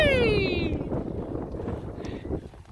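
Strong wind buffets a sailboat on a blustery day, a loud rumbling roar across the microphone with a falling tone fading early on and water and rigging noise beneath, no voices.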